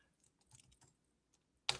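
Someone types a command on a computer keyboard while setting up a network lab, with a few quiet scattered keystrokes followed by one louder, sharper key press at the end.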